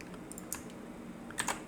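A computer keyboard typed on while setting up an MQTT topic in Node-RED for a Raspberry Pi Pico W, a few light, quick key taps close by with quiet gaps.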